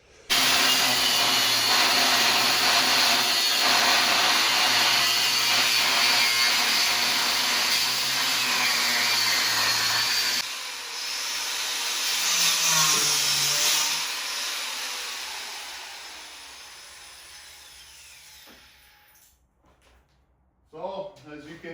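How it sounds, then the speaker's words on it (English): A power saw cuts steadily through a wooden shop bench, a loud continuous whine that drops off midway into lighter rasping and scraping, then fades to near quiet with faint sounds at the end. "So, as you can see, I'm cutting the bench"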